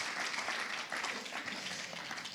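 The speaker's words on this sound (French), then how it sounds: "Est-ce qu'on peut acclamer les Seigneurs, amen?" A church congregation applauds the Lord during a sermon, giving a steady, dense roar of many hands clapping that fills the room evenly and continuously without pause.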